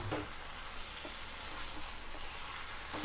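Fenugreek leaves and onions are stirred in a frying pan, giving a faint, soft sizzle with light scraping throughout, close and quiet, with no voices.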